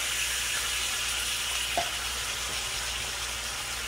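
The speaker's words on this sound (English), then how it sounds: "we're just going to add a few dash of water" Water splashes into a hot pan of razor clams cooking in garlic and black bean sauce, a steady broadband sizzle and hiss holding close and even throughout.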